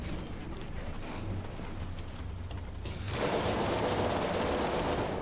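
Gunfire in the War Thunder tank game, a Japanese M24 Chaffee facing a ZIS-30: dense, continuous battle noise with rattling shots that grow louder and busier in the last two seconds, with no talk over it.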